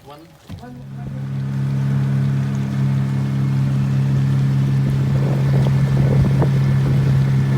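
A boat motor drones steadily while cruising through a river delta, the low engine hum rising after a brief opening noise and holding loud and constant with some wind buffeting.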